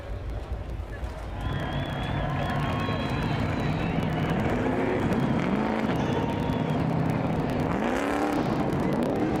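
Racing trucks roar past on the Long Beach street circuit in 2022, including a yellow and light blue truck, their engines sweeping up and down in pitch as they pass close by, one after another, over a constant murmur of crowd and voices.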